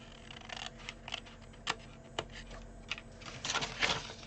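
Scissors snip through paper for a homemade chocolate gift box, a series of quiet, crisp cuts spaced irregularly, growing busier toward the end.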